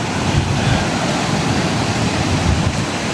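A powerful waterfall below a forested slope, with heavy wind, a dense, steady roar of rushing water filling the scene loudly and without pause, no voices over it.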